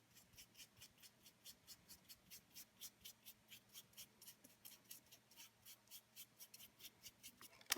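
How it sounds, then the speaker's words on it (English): A brush spreading clear gesso over a paper collage, quiet rhythmic back-and-forth strokes about three per second, close and soft, ending with a brief louder knock. "So I'm just going to put a quick layer of the clear gesso"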